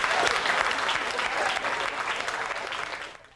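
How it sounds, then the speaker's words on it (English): Applause from a jazz festival audience on Central Avenue in 1996, honoring veteran jazz musicians; dense, steady clapping close by that holds for a few seconds, then thins and fades out at the end. "A round of applause for these great personalities of jazz."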